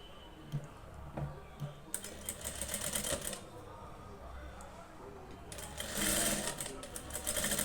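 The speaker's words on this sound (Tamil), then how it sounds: "இந்த கழுத்து பீஸில் வச்சு தையல் அடிக்கணும்" A sewing machine stitches a blouse neck piece in quick whirring bursts separated by brief pauses, close and fairly quiet.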